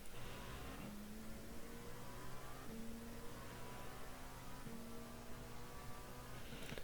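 LMP2 prototype racing car in iRacing, its engine steadily accelerating with rising pitch, broken by a few quick gear changes, heard alone at constant loudness with no talk.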